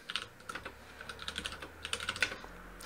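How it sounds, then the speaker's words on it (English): Steady typing on a computer keyboard, a quick run of crisp, close key clicks with an uneven rhythm and no talking. "I start typing."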